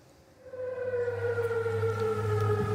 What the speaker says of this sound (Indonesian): Sirine meraung di kota aman saat angkatan bersenjata Yordania mencegat serangan rudal Iran.